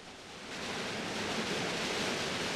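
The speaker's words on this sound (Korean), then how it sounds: "아, 이 폭포 소리 때문에 무슨 말인지 영." Steady, dense roar of a waterfall at Mt. Kumgang, a broad rushing wash of falling water that swells slightly in the first half-second and then holds loud and unbroken, with no voices.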